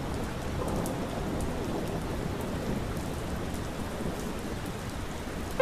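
Steady rain hisses over a Hot Wheels track, close and continuous with faint rumbling underneath, no voices.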